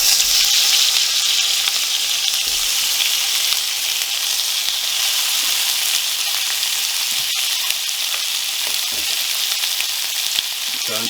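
Minced meat fries with garlic in a pan, a loud, steady sizzling hiss with occasional crackles and small scraping sounds, continuous and close, with no talking.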